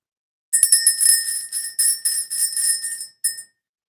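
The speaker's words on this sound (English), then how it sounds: "Tasha, I'm being told to ring the bell." A small bell rung in rapid, repeated strikes for about three seconds, bright and ringing, with a short pause before one last brief ring. No voices accompany it.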